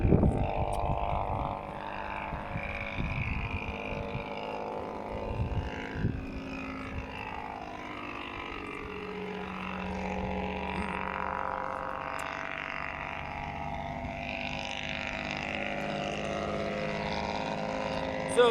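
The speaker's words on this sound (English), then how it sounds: "So just 1 second for the noisy truck." A noisy truck rumbles past steadily and close by for a long stretch, a broad engine and road roar with some wind buffeting on the microphone and no speech.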